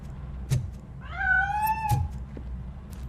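A cat in the video game RoboCop: Rogue City gives one clear, drawn-out meow, framed by a couple of soft thumps before and after it, with no voices.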